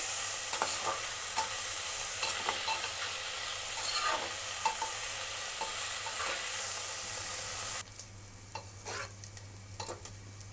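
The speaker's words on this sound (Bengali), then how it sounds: "আমার পেঁয়াজটা প্রায় নরম হয়ে এসেছে, একটু ভাজা ভাজা হয়ে গেছে" Onions softening and browning in a pan for a Bengali mutton curry, with steady broadband sizzling and repeated scraping stirs of a utensil; the frying quiets noticeably near the end while the stirring scrapes continue, with no talking.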